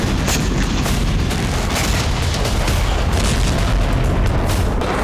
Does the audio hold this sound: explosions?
yes